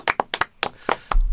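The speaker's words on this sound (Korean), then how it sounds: "여기서 박수 한번 치고 가자." Six sharp hand claps in an uneven pattern, close and loud, with brief gaps between them and a low rumble at the end.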